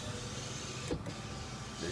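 A pickup truck's electric power window motor whirs steadily and faintly, with a brief thunk around the middle as the glass reaches its stop, then the whine resumes.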